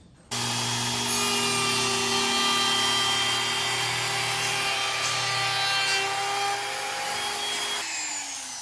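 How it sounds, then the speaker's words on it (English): A router cuts a dado into a wooden nickel gap board while riding along a jig fence: a loud, steady, high-pitched motor whine with grinding cut noise that holds for about eight seconds, then spins down. "we take this jig, pop it onto our nickel gap piece, and ride our router along this fence"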